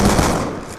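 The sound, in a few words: M1216 shotgun firing in video game Black Ops 2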